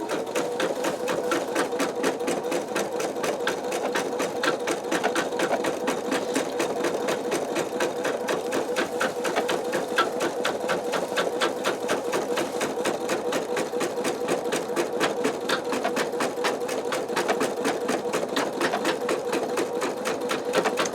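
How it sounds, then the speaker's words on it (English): An embroidery machine stitches a design held in a MagnaHoop magnetic embroidery hoop, giving a steady, fast, even mechanical chatter of needle strokes that runs loud and unbroken, with no talk over it. "So far it is stitching really well."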